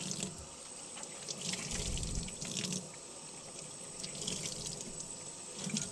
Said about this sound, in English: You have to rinse that rag out a couple times.